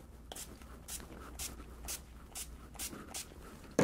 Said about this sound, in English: So I'm going to spray this onto my face.